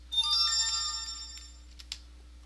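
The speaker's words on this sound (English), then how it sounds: "That's my calendar notification on my phone." A phone calendar notification chimes with a short series of bright electronic tones that fade out, followed by a couple of faint soft clicks over a low background hum.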